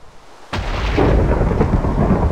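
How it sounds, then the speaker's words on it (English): Thunder from a lightning strike in Minecraft with the Immersive Engineering mod: a sudden loud crack breaks a short quiet lead-in and rolls into a sustained, rumbling boom that carries on to the end. "So the lightning hit on the mesh net over here."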